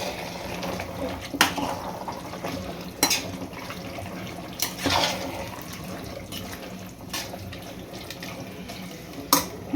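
Ingredients for mutton dum biryani are stirred in a pot, giving soft wet shuffling and occasional sharp knocks of a utensil against the pot, fairly quiet, with no voices.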